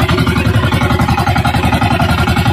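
A small fishing boat's engine runs steadily at sea with a pulsing, clattering chug, loud and close, no voices over it.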